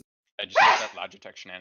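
A single sharp human sneeze bursts out close to the microphone, followed at once by someone speaking.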